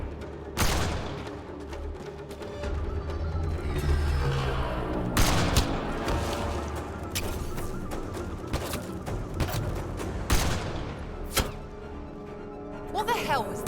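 Rapid exchanges of gunfire from the Mass Effect Andromeda video game, with repeated sharp shots and bursts spread across a busy, loud combat scene with layered effects and music underneath.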